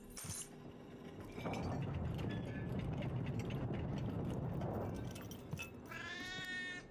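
A cat meowing and caterwauling, drawn-out cries close by over a busy noisy background, with a brief clinking sound and a final higher meow at the end.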